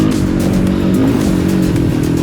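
A Suzuki DR350 motorcycle engine under way on a ride, a loud close-up throbbing drone with a rising and falling pitch as the rider accelerates.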